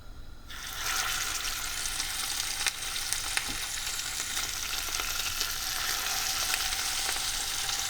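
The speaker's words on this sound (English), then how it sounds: "it's time to lay out our fish one by one" Steady, loud sizzling and crackling of sardines frying in hot oil in a pan begins abruptly and continues throughout, close up.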